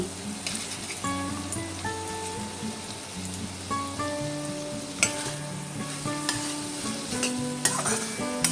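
Lau chingri, a Bengali bottle gourd and prawn curry, sizzling and being stirred in the pan after garam masala powder and a little ghee go in. The soft, steady crackle has occasional scrapes, with faint tonal music underneath.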